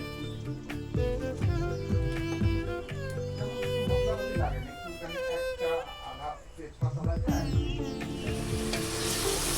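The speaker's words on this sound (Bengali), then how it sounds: "লাউ রান্না করছে" Bottle gourd (lau) cooking in a pan at a forest homestay in Pudung, Kalimpong: continuous sizzling and stirring noises, close and steady, mixed with people talking over it.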